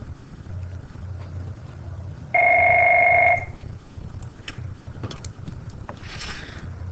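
During a geometry lesson, a telephone rings once with a steady electronic tone lasting about a second, standing out clearly over a low background hum, with no talk.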